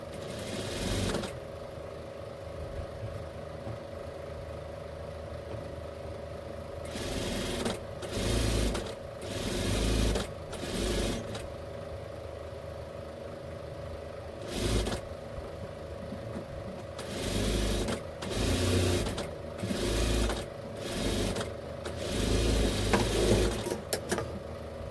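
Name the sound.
sewing machine stitching lace onto readymade blouse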